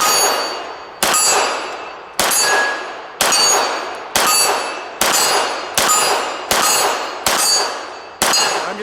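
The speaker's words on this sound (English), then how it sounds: "out there at 20 yards or so, we have our steel gong" A 12-inch steel gong about 20 yards out is struck repeatedly by 9mm rounds from a Walther P99, nine sharp metallic clangs at roughly one-second intervals, each ringing out before the next hit.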